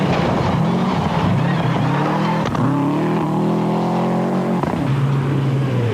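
A Mitsubishi Lancer production rally car races along a stage, its engine loud and close, revving and dropping in pitch through gear changes with brief shifts, a sustained roaring run heard alone.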